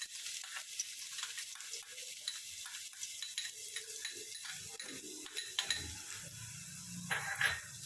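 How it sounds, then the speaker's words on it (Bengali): Chopped garlic frying in hot white oil in a wok, a soft, continuous close sizzle broken by scraping and clinking stirs against the pan, with no voices. "তেলটা গরম হয়ে গেছে, তেলের মধ্যে দিচ্ছি রসুন কুচি"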